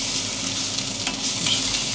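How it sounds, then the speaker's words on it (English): Tomatoes and spinach frying in a pan for breakfast, a steady bright sizzle with a few soft stirring scrapes, close and continuous with no talk. "just frying off some tomatoes,"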